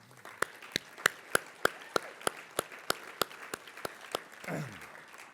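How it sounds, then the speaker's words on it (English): Slow, sparse clapping rings out at a leadership summit as association officers for the new board term are honored, roughly a dozen distinct claps in an even rhythm before a brief murmur of voices. "Please have a round of applause for our officers of our association."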